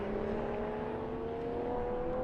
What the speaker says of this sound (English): that Porsche just screaming down the front straight